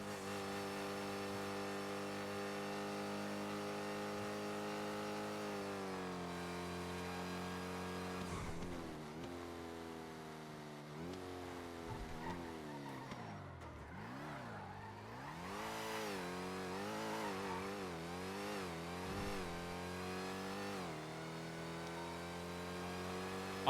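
In GTA V NoPixel, a car engine revs up loud and steady, its pitch climbing through repeated gear shifts with dips and surges between them, with no talk over it.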